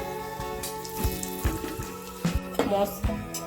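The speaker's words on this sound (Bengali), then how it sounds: "সব গুঁড়ো মশলা দিয়ে ভালো করে ভেজে নেব" Ginger and ground spices (cumin, coriander, turmeric, red chilli, garam masala) frying in hot oil for Kolkata-style aloo chop, a close crackling sizzle broken by sharp bursts of spatter and pan knocks.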